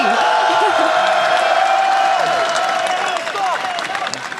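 French fans at an esports event cheer and applaud loudly, a dense roar of crowd noise with clapping and whoops that stays strong throughout and eases slightly toward the end.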